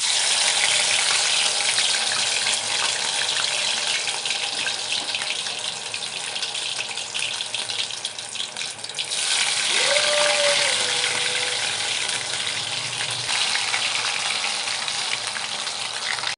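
Potato and semolina snacks coated in flour batter deep-fry in a wok of oil, a loud, steady close sizzle lasting throughout, with a brief faint tonal squeak partway and no speech.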